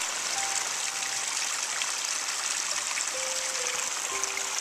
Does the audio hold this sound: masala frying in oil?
no